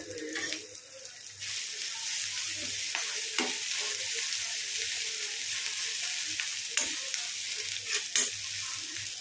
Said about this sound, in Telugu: అల్లం వెల్లుల్లి ఇట్లా మంచిగా వేగిపోయింది కదా.